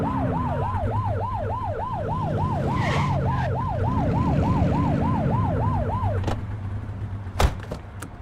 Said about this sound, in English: flip the siren to make them pull over